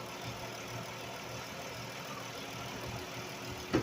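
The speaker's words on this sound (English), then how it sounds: "We're going to crank the vehicle and we're going to see where it stands" A 2011-2023 Dodge Challenger engine idling steadily at low rumble after being cranked, close and constant, with no talk.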